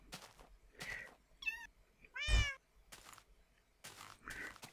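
Several Siamese cat meows spread across a few seconds, one loud, drawn-out yowl in the middle standing out from softer calls, close by with no talking.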